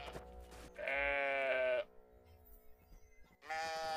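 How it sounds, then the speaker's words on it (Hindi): A sheep in the video game Brothers: A Tale of Two Sons bleats twice, close and clear, with a long, wavering cry first and a second cry after a quiet pause. "यार ये भेड़ काफी भारी है"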